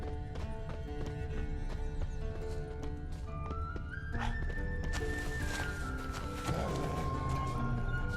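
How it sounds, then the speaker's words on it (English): Horse hooves clip-clopping at a walking pace in The Witcher 3, faint under steady game music and ambience. "That's his horse."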